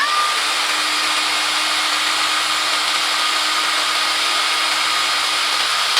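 An APR AP78PROMAX+ cordless impact wrench runs in continuous mode with an even, unbroken high whirring whine that holds steady at close range for the full six seconds, with no speech.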